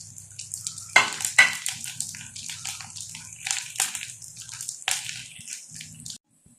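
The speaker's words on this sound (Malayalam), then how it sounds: "കപ്പലണ്ടി, ഈ നട്ട്സുകൾ, ഈ പരിപ്പുകളെല്ലാം അതിലേക്ക് ഇടാം. ഇട്ട് എല്ലാം ഒന്നിച്ച് മൂപ്പിച്ച് വെക്കാം." Peanuts, nuts and lentils frying in hot oil, a steady crackling sizzle with sharper spattering bursts near the start, close and fairly loud, stopping abruptly at the end.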